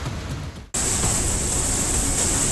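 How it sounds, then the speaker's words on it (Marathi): Heavy rain pours on Igatpuri town in a dense, continuous roar after a short cut, with steady broadband hiss throughout. "इगतपुरी शहरातही जोरदार पाऊस बरसलाय"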